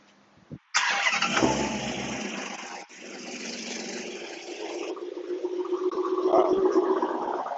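A Dodge Demon cold starts with a sudden loud crank and roar, then settles into a rough, burbling idle that slowly grows a little louder, heard up close with no talking.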